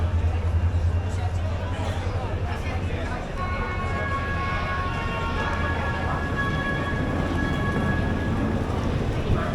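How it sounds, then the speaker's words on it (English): A Romanian passenger train rumbles along at an old unguarded platform crossing, a continuous low roar with faint metallic ringing tones, while people talk in the background. "That's the Romanian train."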